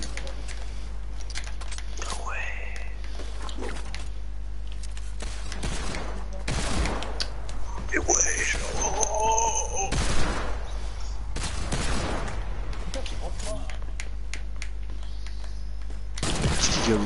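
Gunfire in a shooter video game: rapid bursts and single shots crack repeatedly, some clustered into short volleys, over a steady low hum, with players talking between and under the shots.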